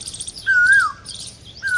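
An Asian koel gives a clear, whistled call once at middle distance, followed by the start of a second call, over faint background chirping and no voices.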